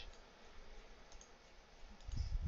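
A computer mouse is right-clicked on a web page, giving faint, sparse clicks over a quiet hiss, with a louder low rumble building near the end and no speech.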